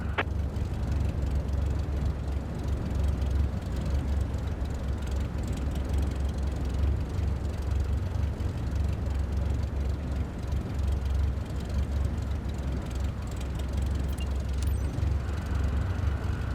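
A light aircraft taxiing in Flight Simulator 2025, a steady, loud, low engine drone holding constant throughout with no voices.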